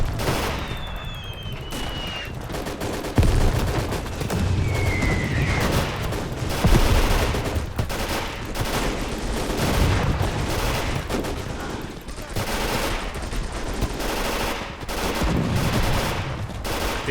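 Sustained battlefield gunfire and artillery in the Call to Arms - Gates of Hell Eastern Front game: dense, rattling bursts with heavy booming impacts throughout, loud and continuous with no talk.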